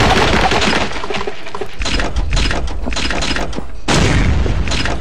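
Ship cannons booming during a naval battle in the pirate game Pirate Core, with several heavy blasts and crackling impacts, one large burst at the start and another near the end, loud and close.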